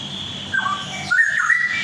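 Straw-headed bulbul belting out a short loud song, bright rising and falling whistled phrases close to the listener over a faint background hiss.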